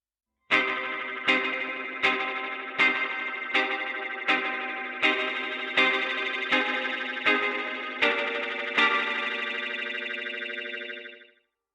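A repeated sustained tone through a Universal Audio Galaxy Tape Echo plugin restarts about every second, its pitch wavering and wobbling with tape wow and flutter, ringing out alone with no talking.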